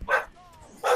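Two sharp dog barks from Team Fortress 2, one at the start and one at the end, loud and close, separated by a brief quiet gap with a faint tonal whine.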